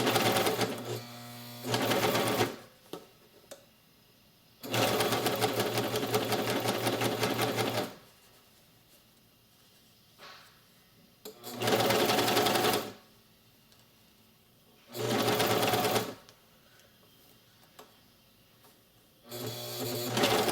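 A serger sewing machine runs in several loud bursts of steady whirring stitching, each a few seconds long, separated by quiet pauses.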